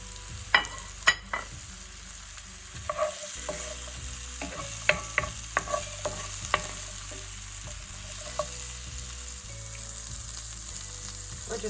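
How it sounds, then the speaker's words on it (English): Chickpeas frying in a pan until crispy, a continuous close sizzle broken by repeated scrapes and taps of a spoon as they are stirred, with no voices. "We're just going to cook those chickpeas until they're crispy, stirring as needed."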